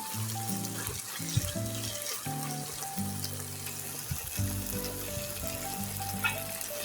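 Cauliflower and fish bhorta sizzles steadily in a pan, a continuous close frying hiss with a tonal hum running underneath and no speech.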